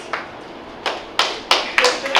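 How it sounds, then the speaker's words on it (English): A comedy club audience in Memphis claps in scattered bursts, five or six sharp separate claps and short flurries rather than sustained applause, fairly close and loud. "Everybody clap!"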